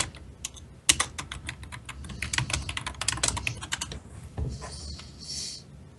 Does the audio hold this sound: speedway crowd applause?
no